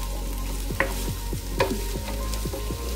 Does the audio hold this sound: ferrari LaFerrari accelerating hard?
no